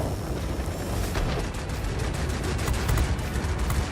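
A 20 mm autocannon firing in World of Warplanes: a continuous rapid stream of booming shots over a steady roar of engine and battle noise, with no pauses.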